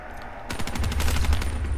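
Rapid bursts of gunfire from a zombies video game, a dense run of closely spaced shots starting abruptly and continuing steadily at close, loud level with no talk.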